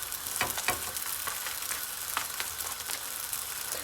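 Tunisian malfouf dough frying in hot oil, a soft continuous sizzle with crackling pops scattered through, close and quiet with no voices.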